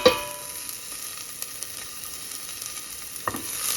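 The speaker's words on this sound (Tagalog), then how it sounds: "Sauteed onions and garlic." Onions and garlic sauté in a pan with a steady close sizzle, broken by a few soft clicks and scrapes of stirring.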